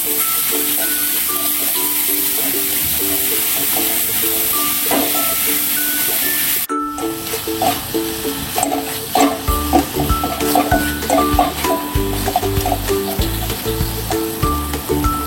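Modak filling for traditional steamed ukadiche modak stirred in a pan, a steady scraping sizzle that grows busier and more rhythmic halfway through, with faint tonal sounds over it and no talk.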